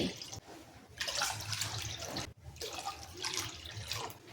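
Water poured from a bowl into a kadai, measured out for sabudana papad, comes in two steady splashing pours separated by a brief pause, close and fairly loud with no talking.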